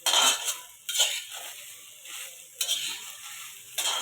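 Tomato and green chilli masala sautéing in a pan, with a steady sizzle and repeated scraping stirs of a spatula against the metal at close range.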